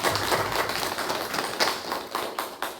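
A church congregation applauds together, a dense, close wash of many clapping hands that stays steady and loud for the few seconds heard, with no speech over it.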